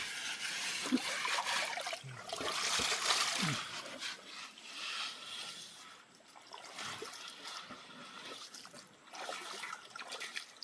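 Water trickles and splashes softly and unevenly in the background, as if from leaves being soaked in water, with faint low noises now and then.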